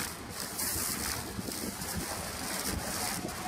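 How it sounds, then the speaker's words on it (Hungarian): Strong wind at Lake Balaton buffets a camera microphone in a continuous roaring rumble with gusty surges, loud and close, without any voices. "Komolyan rángatja a szél a kamerát."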